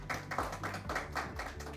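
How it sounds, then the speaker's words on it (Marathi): Audience applause for the MCA president at a cricket league podcast event, a steady wash of clapping from a crowd holding through the whole stretch, loud and continuous with no talk over it. "त्यामुळे त्यांच्यासाठी जोरदार टाळ्या व्हायला पाहिजेत."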